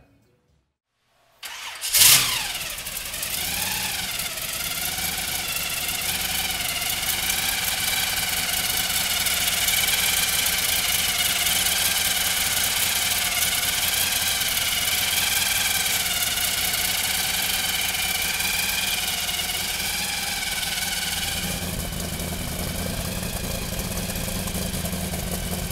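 A supercharged 502 engine in a 1932 Ford deuce coupe street rod cranks briefly after a moment of silence, catches with a loud burst, then settles into a steady, throaty idle with a whining overtone that runs close and strong to the end.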